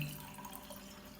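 Water pours briefly into a glass holding a little Rooh Afza syrup, a short, close, bubbling trickle with no speech over it.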